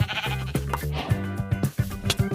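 Sheep bleating in the Minecraft Bedrock video game: repeated wavering baas over a busy background of music and game sounds, loud and close.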